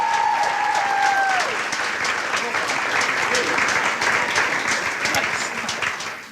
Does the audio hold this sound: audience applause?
yes